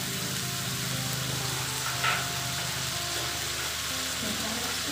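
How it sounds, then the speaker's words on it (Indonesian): Ground spice paste of shallot, garlic, candlenut, ginger, turmeric, galangal, chili, coriander and pepper frying in oil with lemongrass, bay leaves, lime leaves and chilies, giving a steady close sizzle with no talking. "Kemudian masukkan bumbu halus, tumis hingga wangi ya teman-teman, bersama serai, daun salam, daun jeruk,"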